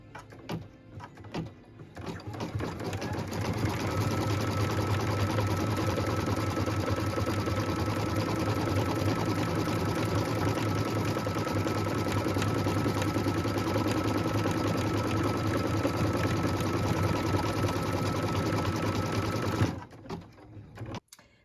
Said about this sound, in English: we're going to stitch a tack down line